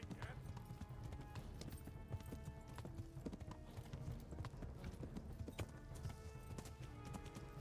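Hooves clip-clop in a quick, steady rhythm as a horse gallops in the video game Kingdom Come: Deliverance, with a voice talking faintly over the pounding beat.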